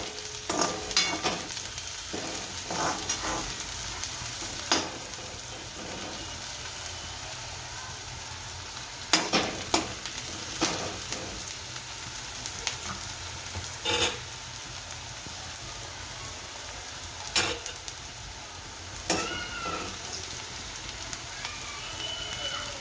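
Sandwich filling frying and sizzling in a pan for a Gujarati snack, a steady crackle with occasional sharp clinks of a spoon stirring against the metal, close and moderately loud without talk.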